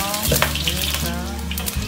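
Ginger and garlic stir-fried in a hot wok, a loud close sizzle with crackling bursts and brisk stirring, over a steady low hum.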